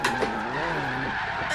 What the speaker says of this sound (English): that was a terrible drift because it was in third gear